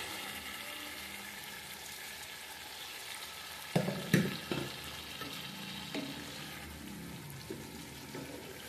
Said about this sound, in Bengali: আমি ডালটাও একটু আবার কষিয়ে নিব।